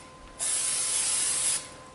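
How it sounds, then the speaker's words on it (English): A single steady hiss of cooking spray onto cake pans lasting just over a second, close and fairly loud, with quiet room tone before and after. "I'm going to spray the pans"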